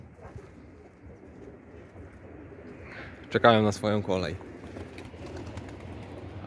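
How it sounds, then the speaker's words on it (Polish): Pigeons in a loft give a short cluster of soft, throaty coos near the middle, close by, while someone talks quietly before and during them. "Tak jest, tych gołębiaczków troszkę."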